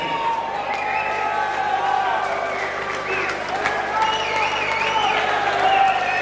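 A crowd at a boxing event claps and cheers steadily for a knockout winner, the applause sustained and fairly loud beneath a voice speaking over it.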